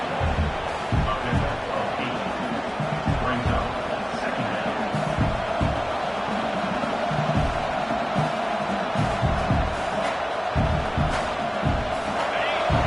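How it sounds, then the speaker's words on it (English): Football stadium crowd cheering and roaring as the defense holds in the red zone, a loud sustained wall of noise with whoops and swells throughout. "the crowd coming to life here, trying to help this defense down in the red zone"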